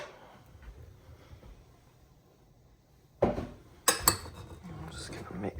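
Cut-up dried apricots being tipped into a bowl in a kitchen: a quiet stretch, then several close clinks and knocks of fruit and utensil against the bowl.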